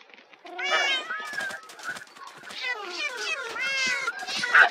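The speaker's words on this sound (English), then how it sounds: "I don't want these cats." Cats meow repeatedly in a series of rising and falling cries, some drawn out and overlapping, close by and fairly loud, while a person talks quietly in the background.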